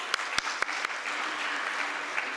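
Sustained audience applause closing a panel discussion at a design conference, a steady wash of many hands clapping, opened by a few louder, sharper claps up front.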